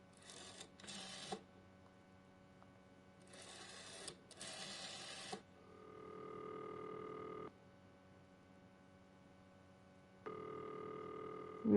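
Dialing a telephone number in the game Martha Is Dead: two bursts of clattering key presses, then sustained electronic tones held for a couple of seconds each, moderately quiet and with no talking.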